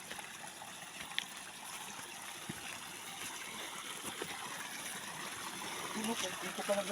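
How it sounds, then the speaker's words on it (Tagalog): A river stream flows softly in the background, a faint, steady trickle and rush of water that grows slightly louder toward the end. "Maganda yung ilog dito."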